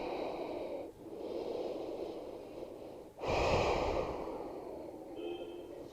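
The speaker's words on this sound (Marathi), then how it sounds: "श्वास सोडत सोडत" Long, audible breaths during a yoga-style belly exercise, slow airy exhales that swell and fade across the stretch, close to the mic, with no speech.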